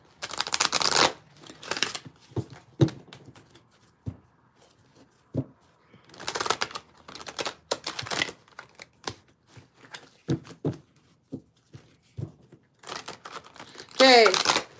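Cards from a new deck being shuffled during a live reading, in repeated bursts of riffling and crinkly handling with pauses between, fairly close and clear.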